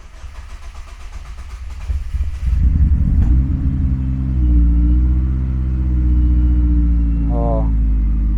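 A car engine cranks and catches on its first cold start of the day after new fuel injectors were fitted, settling into a loud, steady idle rumble close by.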